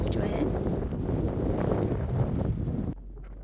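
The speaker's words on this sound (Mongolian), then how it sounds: "Тэгээд ингээд салхинаас нэлээд хүчтэй байсан." A strong wind buffets the microphone on the open steppe as a snowstorm begins, a loud continuous rumbling roar that drops away abruptly near the end.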